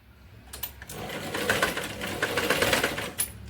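Sewing machine running a short back-stitch on the back neck of a blouse: a rapid, rattling whir that starts after a brief pause, runs steadily close-up and loud, then stops with a click.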